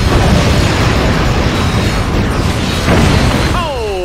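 Explosions in the video game Ratchet: Deadlocked: a loud, sustained blast-heavy din of booms and bursts throughout, with a descending whistling tone entering near the end.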